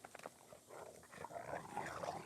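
Pet dogs growl and scuffle in play at close range, with short rough bursts over a busy, rumbling background.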